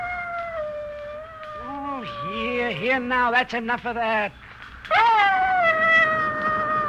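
A dog howls and whimpers in long, wavering, rising and falling cries close by, with a voice speaking over and between them.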